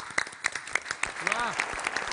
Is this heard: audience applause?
yes